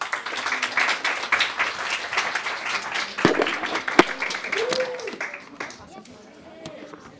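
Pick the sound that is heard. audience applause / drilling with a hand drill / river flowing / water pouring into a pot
audience applause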